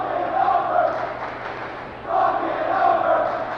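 Crowd in a gym at a girls high school district championship basketball game during a timeout, a loud swell of cheering and voices that dips briefly and then surges again.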